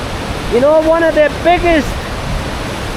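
Rushing water drains into a large hole on the road from Kabul to Bamyan in Afghanistan, making a steady broadband roar, while someone speaks briefly over it.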